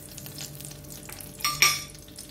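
Oil and butter sizzle in a pan while cooking Afghani chicken, a soft steady frying hiss with a couple of louder sputtering bursts toward the end.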